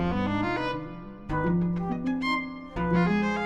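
Synthesized melodic music sonifying an AI-generated protein, with layered sustained tones and quick plucked notes, shifting through changing pitches in an unusual, meandering pattern.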